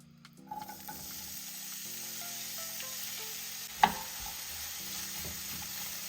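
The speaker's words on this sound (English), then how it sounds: "I'm just going to let that saute until the onions begin to caramelize" Half a medium onion and half a medium-large green pepper sauté in a pan with a steady, moderate sizzle, joined by a few soft stirring clinks and one sharp utensil knock partway through.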